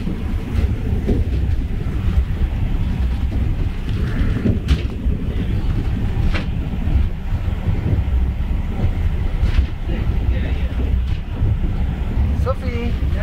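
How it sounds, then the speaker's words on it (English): The Mount Washington Cog Railway train in New Hampshire runs up a snowy mountain, giving a continuous loud rumbling, rattling ride with mechanical clatter and wind buffeting, and faint voices audible inside the carriage. "Well, this is called the cog railway"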